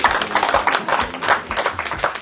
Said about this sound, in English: Family, give yourself a clap.